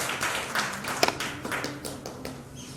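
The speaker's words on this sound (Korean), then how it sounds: "우리 힘차게 잘 일해갈 수 있도록 격려의 박수, 축복의 박수 주시기 바랍니다." A church congregation claps during a Sunday worship service. The applause is dense and continuous, with sharp individual claps standing out, and a faint voice can be heard underneath.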